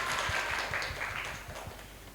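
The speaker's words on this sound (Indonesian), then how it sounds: "Tolong tepuk tangan untuk diri kita sendiri." A class of students clapping for themselves after an evaluation in a teaching session, a brief burst of scattered handclaps under some background noise, fairly quiet.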